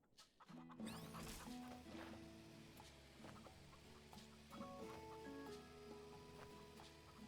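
Chickens clucking in the farming video game Farm Together 2, a busy run of short clucks and calls layered over light patter like rain, with a cheerful steady background.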